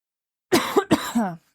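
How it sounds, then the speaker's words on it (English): A single close, hoarse coughing fit: a few quick harsh bursts in a row, ending in a raspy trailing breath. "I'm coughing in your face and in your ear."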